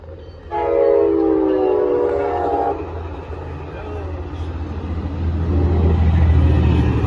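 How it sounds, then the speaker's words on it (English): An Amtrak San Joaquin passenger train with an F59PHI locomotive passes close by: a loud, sustained horn blast opens, then a steady rolling rumble of rail cars builds and continues to the end. "It's an Amtrak."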